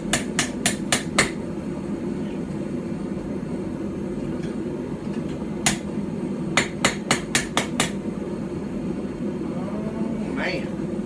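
Hammer striking hot steel bevels on an Anglo-Saxon/Viking-style wooden stump anvil, sharp metallic blows in two quick bursts of four to five strikes, separated by a pause with a single hit, over steady background noise.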